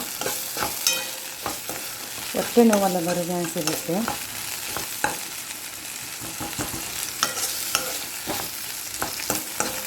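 Spices tempering in ghee sizzle and fry in a pan while being stirred, with a steady crackling hiss and scraping clicks throughout. A voice speaks briefly over it.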